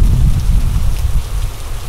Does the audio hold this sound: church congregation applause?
no